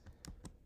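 Two soft, close keystrokes on a computer keyboard tap out in quick succession against a quiet background.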